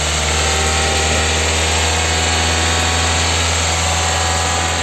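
A 2018–2021 Toyota Corolla engine runs steadily, a loud, unbroken close-up hum and drone with no change in pitch or level throughout.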